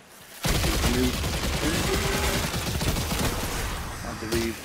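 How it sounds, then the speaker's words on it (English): Rapid sustained submachine gun fire in the Destiny 2 video game, a loud dense stream of shots that starts abruptly and runs almost without pause, with brief electronic tones from the game sounding underneath. "Weapon I'm using is a submachine gun"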